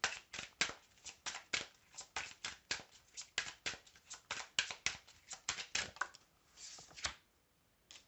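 Oracle cards being shuffled by hand: a rapid, steady run of crisp papery riffles and flicks, close and fairly quiet, with no talking over them.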